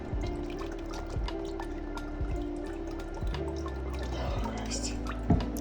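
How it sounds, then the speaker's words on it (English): Ceramic glaze pours over a large pottery bowl and drips into a bucket below, a steady close trickle with scattered droplets and a faint background hum. "I pour the glaze onto the bowl over the bucket to try catch the drips"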